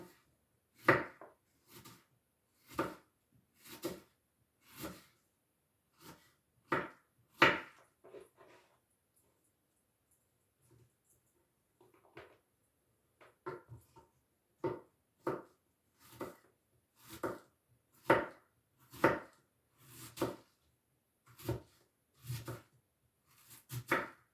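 Knife chopping vegetables finely on a board for homemade tomato soup, rhythmic close knocks in bursts with a pause midway, then a steady run of chops.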